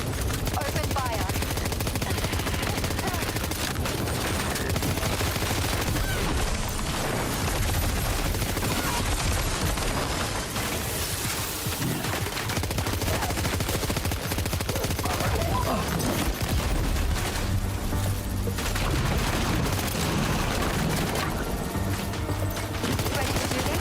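Dense, continuous gunfire from Death Stranding 2 gameplay, with rapid bursts layered over a loud, busy battle mix that runs throughout.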